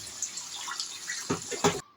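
Potato juice poured into a pan holding potatoes and dried fish: a short, gentle watery splash and trickle lasting about a second, close by, then silence.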